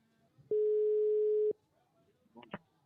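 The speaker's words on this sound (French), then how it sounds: "On compose le numéro." A telephone line tone sounds as a call is placed, one clean steady tone lasting about a second with sharp clicks at its start and end, followed by a short burst of faint line noise.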